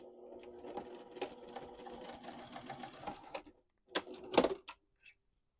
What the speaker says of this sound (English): I'm going to top stitch at 1/4 of an inch away from the edge